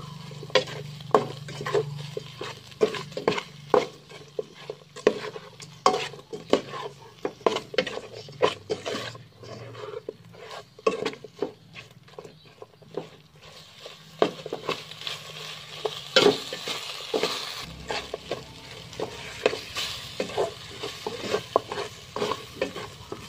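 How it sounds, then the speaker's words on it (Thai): Frog meat stir-fried in curry paste in a pan for a northern Thai mustard-green curry: a spatula scrapes and knocks against the pan in a steady, close rhythm over a soft sizzle, with no talking. "ทีนี้ก็เอากบลงไปเลยเนาะ คั่วเอาจนหอมเลยนะเจ้า"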